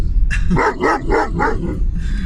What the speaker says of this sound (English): my dog is probably gonna bark